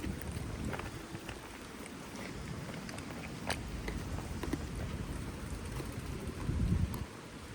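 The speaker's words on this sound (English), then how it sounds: "Today is windy, a rainy, windy day." Wind blows steadily outdoors on a rainy, drizzly day, buffeting the microphone with a continuous low rumble and occasional stronger gusts.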